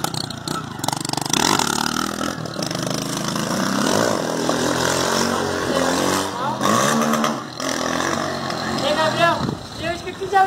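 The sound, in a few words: motorcycle revving while doing a wheelie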